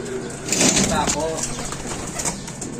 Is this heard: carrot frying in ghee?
no